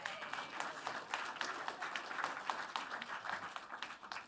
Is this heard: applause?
yes